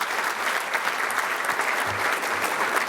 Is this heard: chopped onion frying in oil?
no